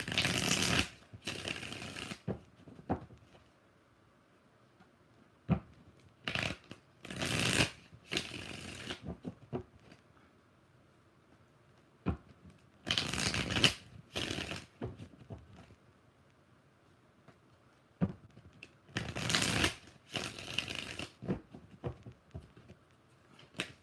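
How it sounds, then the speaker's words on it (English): Bursts of tarot cards being riffle-shuffled, several separate shuffles with quiet pauses between them, close and crisp. "4 shuffles"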